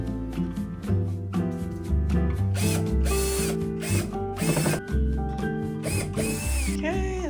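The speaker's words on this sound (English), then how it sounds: "So I'm just gonna screw the bits back together." A power drill drives screws to join upholstered furniture pieces, repeated whirring bursts up close, overlaid by background music throughout.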